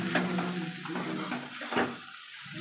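Spiced potatoes sizzle in a pan while being stirred, giving a steady close frying hiss broken by soft scraping and clinks of the spoon against the pan, with no talk.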